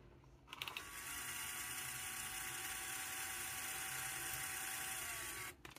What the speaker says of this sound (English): Now we'll stop the driving motor and make these go back in.